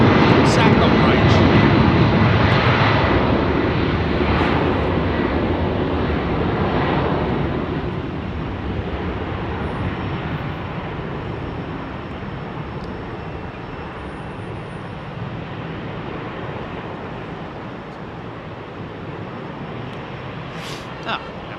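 A jet airliner climbs out from London Heathrow at sunset, a loud broad engine roar close at first that slowly fades as it moves away, with a person talking over it.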